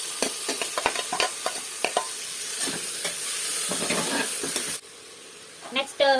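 Tomatoes frying in a pan with ginger-garlic paste for egg biryani, a steady sizzle with repeated stirring clicks and scrapes, cutting to a quieter stretch near the end, with faint voices in the background.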